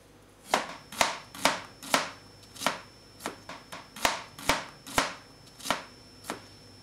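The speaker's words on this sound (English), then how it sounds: "We're going to chop the onion." A knife chops an onion on a board in about fifteen sharp, close knocks at an uneven, unhurried pace, each a crisp tap with a short tail over a quiet background.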